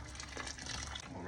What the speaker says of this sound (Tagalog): Dagdag ulit tayo ng tubig.